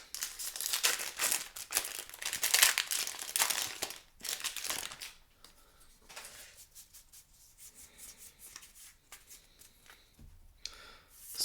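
A Time Spiral Remastered booster pack is torn open. Loud, close crinkling of the foil wrapper comes in bursts, then gives way to softer rustling and card handling.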